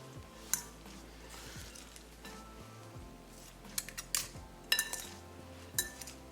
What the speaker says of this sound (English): Add onion and green chili. We're going to mix these together.